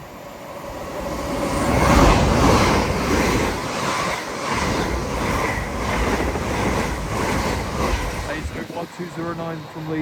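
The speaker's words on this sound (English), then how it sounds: "passing through now is an LNER Azuma en route from Leeds to London King's Cross" An LNER Azuma bound from Leeds to London King's Cross speeding through Alexandra Palace on the East Coast Main Line, a loud, swelling rush of wheels and air that peaks early, then tails off as a voice talks.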